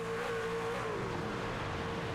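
Onboard engine roar from a race truck during a Hammer Down Truck Series race at the Bluegrass 150, a steady loud drone with the pitch dipping slightly as the driver lifts through a corner.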